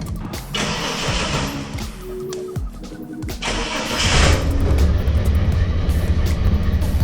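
A Ford XE Falcon engine cranks and catches, then settles into a loud, rough idle close by; its steady rumble grows fuller in the second half.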